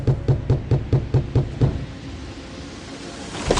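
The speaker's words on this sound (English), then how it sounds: "she heard a knock on the door." Seven quick, solid knocks rap on a door in an even run close by, then stop, leaving a quiet room tone with a faint rustle at the end.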